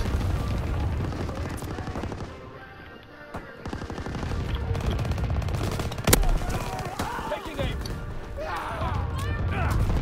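Dense automatic and single-shot gunfire from Call of Duty WW2 on the cramped Shipment map, rattling almost nonstop with occasional booms, while a player talks over it.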